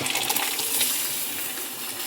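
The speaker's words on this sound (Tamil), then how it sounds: "இந்த பருப்பு அப்படியே கடைஞ்சி ஊற்றிடலாம்" Mashed cooked lentils are poured into a pot of sambar seasoned with sambar powder, making a close, steady wet splashing pour without voices.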